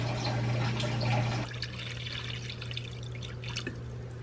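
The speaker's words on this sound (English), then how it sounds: "I also rinse off his worms before laying them on his food, just to rinse off all this mucky stuff" Running tap water splashes steadily as feeder worms are rinsed of slime, a continuous close trickle over a low hum, with the flow easing and thinning partway through.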